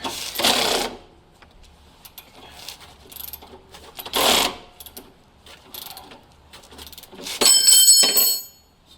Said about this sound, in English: So we come right back to our 17 that we've loosened up.